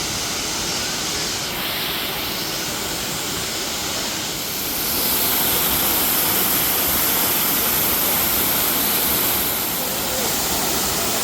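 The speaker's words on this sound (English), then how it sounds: "And the sound of the waterfall is so soothing and so calming." A large waterfall at Bird Paradise in Singapore roars as steady, dense broadband rushing water, loud and continuous throughout with no talk over it.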